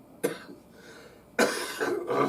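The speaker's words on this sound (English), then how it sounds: "Sorry, this cough." Two harsh coughs, one brief and one longer and rougher, close to the microphone in an otherwise quiet setting.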